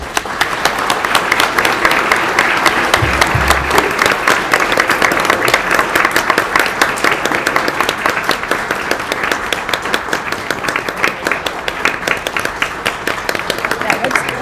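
An audience at a live Martin Luther King Jr. celebration in Paradise Valley claps in a sustained, dense round of applause, steady and fairly loud for the whole stretch, with a brief low thump early on.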